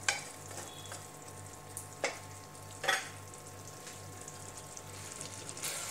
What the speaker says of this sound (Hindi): सबको अच्छे से मिक्स कर देते हैं।